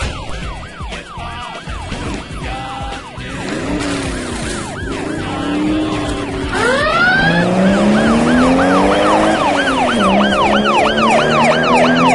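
Several police car sirens in a video game wail and yelp over one another, sweeping up and down in overlapping cycles, growing louder and denser as they close in, with a steady engine drone underneath and no talking.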